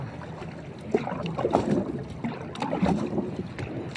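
A small boat moving on water, with sloshing and splashing against the hull and gusts of wind buffeting the microphone.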